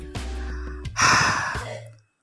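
A character in an Indonesian martial-arts audio drama takes a sharp audible breath and lets out a sighing exhale, close and clear over a low musical drone, then a brief silence.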